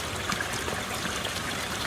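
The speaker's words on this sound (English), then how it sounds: "You can see that water coming out there" Water gushing from the discharge of a 3/4 horsepower sump pump draining a French drain by a garage, a steady close splashing stream with no pauses.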